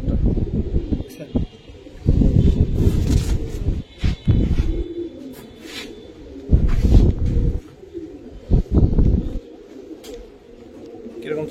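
Pigeons kept in a loft or coop for sale coo in low rolling bursts, close by, mixed with frequent nearby speech from people talking over them.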